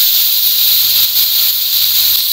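Potatoes for a fish curry frying in oil, giving a loud, steady sizzle with a bright hiss that holds evenly throughout, close up and alone.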